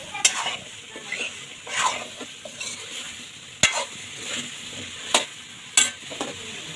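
Food sautéing in a pan during a home cooking session, a soft steady sizzle broken by repeated scraping and clanking stirs of a utensil against the pan, close and without talk.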